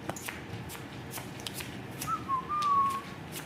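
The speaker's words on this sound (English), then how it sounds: "No whistling, though. I don't like whistling." Someone at a poker table whistles a short wavering tune near the end, faint against the soft riffling and clicking of shuffled cards and chips.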